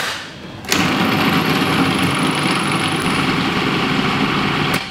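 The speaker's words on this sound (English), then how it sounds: "Get the lid on and we'll whiz that up." Food processor blitzing bread, Parmesan and pepper into fine crumbs: the motor kicks in suddenly and whirs in a loud, steady high-pitched drone for several seconds.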